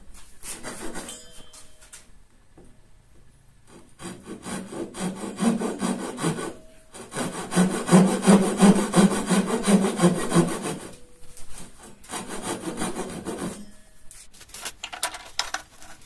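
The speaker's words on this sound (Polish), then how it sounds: "W rękę biorę piłę japońską." A Japanese hand saw cuts into wood for a garden armchair, rasping back and forth in steady rhythmic strokes, close and clear, with short pauses between bursts of sawing.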